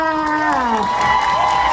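An audience at a mall stage event cheers and applauds to welcome a host, a brief, loud burst of crowd cheering with high shouts over steady clapping.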